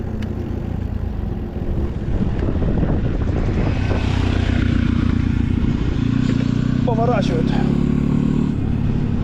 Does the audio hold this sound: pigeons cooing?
no